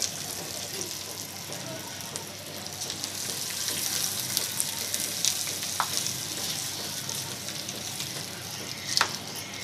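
Tempering of chana dal and other seasonings frying in hot oil for bottle gourd chutney, a steady close sizzle with faint crackles and a few sharp pops, with no speech.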